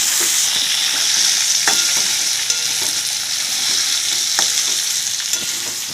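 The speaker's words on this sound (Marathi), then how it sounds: "अशा पद्धतीने याच्यात परतून घ्यायचं याला" Muthia dumplings made from fenugreek, spinach, rice flour and bajra are stir-fried in hot oil, giving a steady, dense sizzle with a few soft spatula scrapes and taps, close and continuous with no voices.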